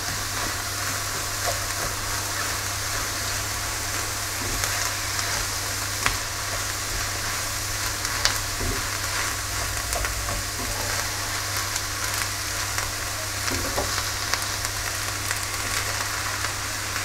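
Lean minced beef sizzles as it browns in a pan, a steady, fairly quiet crackling hiss with occasional faint stirring clicks and no voices.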